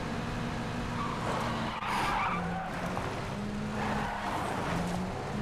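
A car in PUBG skids with a sustained tire squeal over a steady engine drone, the wheels chirping repeatedly as it slides across the ground.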